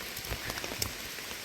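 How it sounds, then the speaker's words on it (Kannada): Heavy rain falls steadily near a river, a dense hiss of drops striking surfaces close by with scattered louder splats and no voices. "ಜೋರು ಮಳೆ ಬಂತು"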